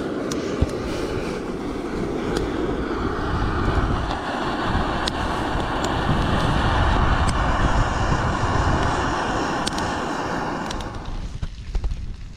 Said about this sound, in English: it's pretty windy and cold